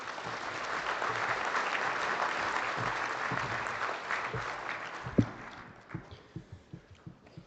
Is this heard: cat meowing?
no